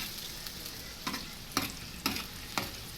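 Onions are sautéed in a pan for a pumpkin sabzi, a soft steady sizzle broken by regular spatula scrapes about every half second.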